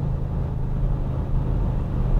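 A 2020 Audi RS6 Avant with its exhaust valves open gives a deep, steady engine rumble at close range. The low throb is continuous and heard alone.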